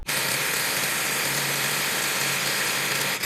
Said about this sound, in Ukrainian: І 18 відкручує також